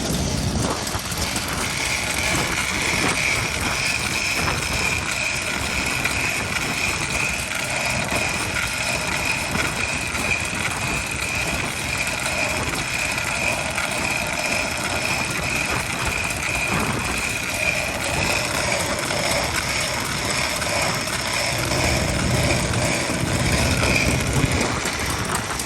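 An early-model Yanmar vintage stationary engine runs at a gathering of engine enthusiasts on a cold, windy day, a continuous close mechanical chugging and rattling that holds steady throughout without speech.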